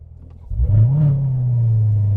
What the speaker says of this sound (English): Corvette realized people want to hear their engine